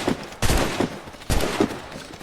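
Gunfire in Assassin's Creed Rogue: two loud, broad volleys of shots about a second apart, each trailing off into a rumbling decay over low game ambience.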